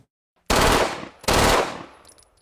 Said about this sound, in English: It looks and sounds like a machine gun because that's exactly what the ATF says it is.